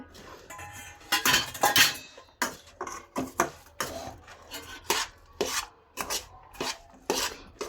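Sugar syrup mixed into roasted ginger pak mixture in a pan, with rhythmic scraping and rasping strokes and occasional metallic clinks, close and fairly loud, no voices.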